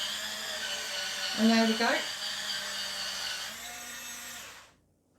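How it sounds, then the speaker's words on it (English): An inexpensive electric scrubber brush whirs steadily as it scrubs a surface, its motor pitch dipping briefly under load before it cuts off near the end, with someone talking over it. "Just let the scrubber do the work for you."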